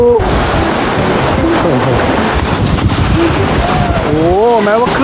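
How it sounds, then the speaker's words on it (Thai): Sea waves crash and wash continuously onto a beach at Cha-Am, a steady roaring surf close by, with children's voices calling and chattering over it. "ไม่ว่าคลื่นพัดมาแรงแค่ไหน ลิต้าก็รู้สึกสนุกกับมัน"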